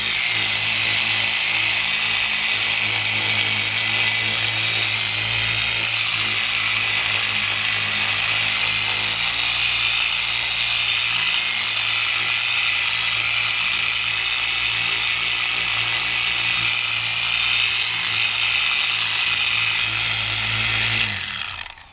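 A power buffer polishes 35-year-old car paint on parts with 80-21 compound, producing a loud, steady high-pitched motor whine that runs unbroken for about twenty seconds before cutting off at the end.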